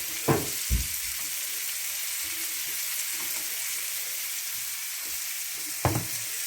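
Two large heads' worth of garlic sizzle in a pan for a quick chicken, cream and mushroom dish, a steady frying hiss with a few sharp knocks of a utensil stirring against the pan.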